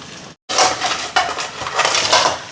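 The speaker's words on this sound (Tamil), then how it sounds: "நண்டு இருக்குல்ல உள்ள போட்டு கொஞ்சம் வதக்கிக்கிடுவோம்" Crab pieces are sautéed in a pot, their shells clattering and knocking against the metal as they are stirred. The clattering starts after a brief silence and carries on unevenly at close range.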